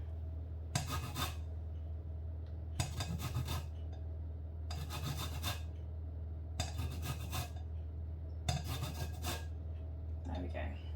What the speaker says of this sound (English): just a last little bit of zest to get off my lemon here